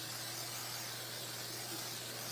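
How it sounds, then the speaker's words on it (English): A can of KK2000 temporary adhesive sprays onto fabric held in an embroidery hoop, giving a steady, faint hiss with a low background hum. "So I'm just going to give this a little bit of a spray."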